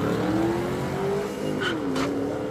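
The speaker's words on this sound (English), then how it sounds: "the Oldsmobile in the far lane has a Gen 3 Hemi in it" Drag race between an Oldsmobile fitted with a Gen 3 Hemi and a Mustang at a drag-and-drive event: a loud, steady engine roar with a falling pitch sweep, plus two brief bright bursts near the end.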